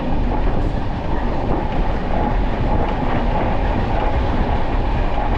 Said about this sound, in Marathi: आम्ही कोकण कन्या ट्रेन पकडली जी आता येते ती बघा चालली आहे